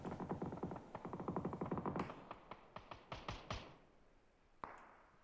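Gunfire in the video game PUBG during a clan battle: rapid automatic bursts followed by several spaced single shots and one final isolated report, quiet and echoing.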